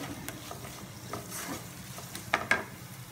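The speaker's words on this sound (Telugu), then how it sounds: "ఈ విధంగా అన్నం వేసేసుకుని అంతా కలిసేటట్టు తిప్పేసుకోండి" Cooked rice being stirred into a turmeric mixture in a pan, with a soft sizzle, a few scraping strokes and a couple of sharp clicks from the spoon, close and quiet.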